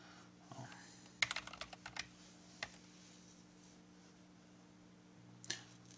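Fingers typing on a computer keyboard to sign in to an account, a short burst of quick, light clicks followed by a few isolated taps over a faint steady hum.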